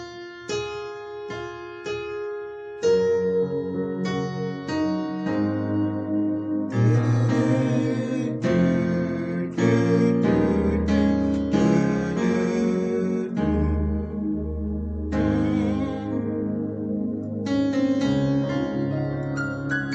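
Piano chords played in a steady sequence, starting with a few sparse struck chords and then filling out into fuller, louder progressions with bass notes underneath.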